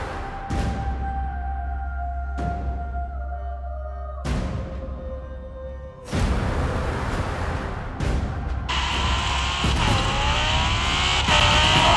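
Italdesign Zerouno supercar racing in Forza Horizon 4, its engine loudly revving through repeated gear shifts, each climb dropping sharply before rising again, building to a sustained high-pitched whine near the end with no one speaking.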